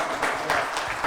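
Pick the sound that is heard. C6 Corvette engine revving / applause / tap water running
applause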